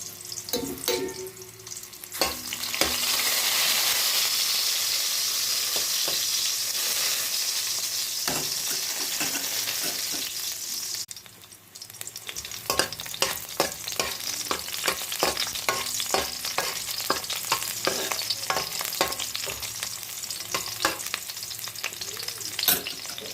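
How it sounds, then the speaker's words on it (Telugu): Onions sizzle loudly in hot oil in a pan with tempering seeds for a jaggery rasam, a steady close frying hiss broken midway, then resumed with frequent clicks and stirring scrapes. "అవి వేగినాక ఆనియన్స్ వేసుకొని బాగా ఫ్రై చేసుకోండి"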